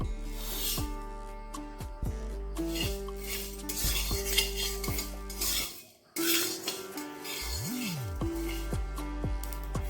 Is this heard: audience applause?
no